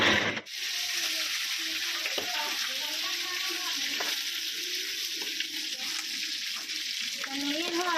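Jipom, an Isan dish, frying in a pan: a steady, loud close sizzle with scraping stirs throughout, under a faint voice.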